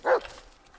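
A single sharp dog bark in the Blair Witch video game, close and loud, followed by a low fading tail and quiet game ambience.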